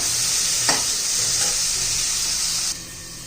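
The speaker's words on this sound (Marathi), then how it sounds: "चांगले तेलामध्ये पण वाटाणे परतून घेतल्यामुळे पटकन मऊ होतात बघा जरा दोन तीन मिनिटं परतून घेऊया" Green peas sautéed in hot oil for spinach pulao give off a loud, steady sizzle with a brief stirring scrape, close up. The hiss drops off sharply near the end.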